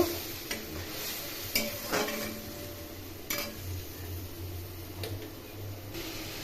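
A spoon scrapes and stirs through spices, turmeric and salt sautéing in a pan for a Bengali bacha fish curry, with soft irregular clinks and a faint sizzle underneath, close and fairly quiet with no talking.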